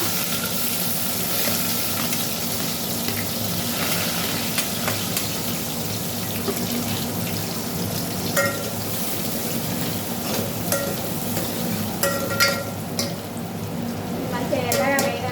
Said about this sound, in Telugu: ఉల్లిగడ్డ రెండు వేసుకున్నాం.